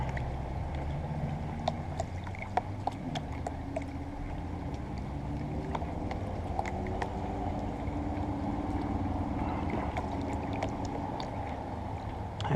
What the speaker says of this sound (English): The old Garrett Super Sluice here.